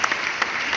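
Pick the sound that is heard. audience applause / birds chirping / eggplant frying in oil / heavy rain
audience applause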